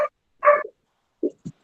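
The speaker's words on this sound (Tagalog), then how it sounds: "Kaninong aso yung tumatawag?" A dog calls out in a few short, separate barks nearby during a math class discussion, with silence between them.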